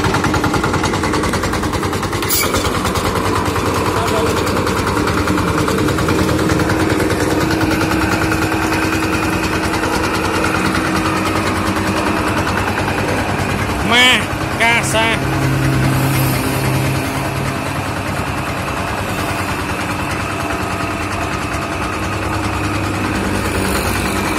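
Mini vibratory road roller of about 500 kg running steadily, a loud continuous engine drone with rattling vibration throughout, with a brief metallic clatter partway through.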